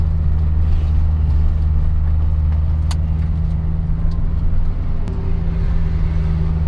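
A Honda RSX rolls along on new tires fitted to 17x9 ESR wheels, with a steady, loud engine and road drone inside the cabin and a couple of faint clicks.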